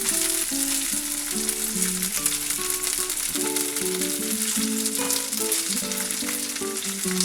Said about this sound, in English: We don't want to overcook the vegetables, so just saute it.